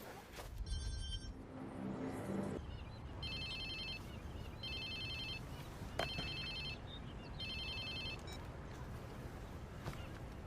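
A phone rings in Watch Dogs 2 in repeated bursts of a bright electronic ringtone, about five rings, over a steady low bed of game ambience and background noise.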